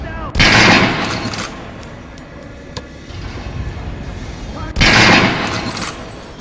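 Gunfire in the video game Metro: Last Light Redux, with two loud bursts of rapid shots at the start and near the end and a quieter stretch of scattered noise between them.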